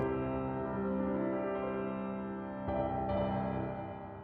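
A rich, sustained sampled grand piano chord with added effects rings out with a soft second attack partway through, then slowly decays.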